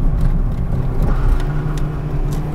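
A stock Honda car cruises along a back road on 175 tires, giving a steady close engine drone mixed with road and tire noise inside the cabin, with no talk.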